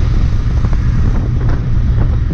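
A Royal Enfield Interceptor 650 motorcycle engine while riding on a road, a steady low rumble mixed with wind buffeting the microphone, continuous and fairly loud, with no talk.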